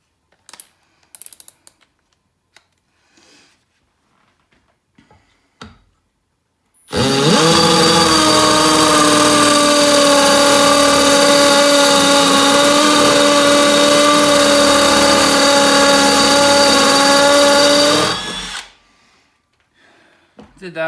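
A Milwaukee M12 1/2 inch hammer drill/driver bores a 3/8 inch hole, its motor whining loudly and steadily for about eleven seconds under pressure before stopping abruptly, with quiet handling noises before and after.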